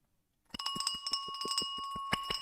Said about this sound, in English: grab your bell there then, Pete Ward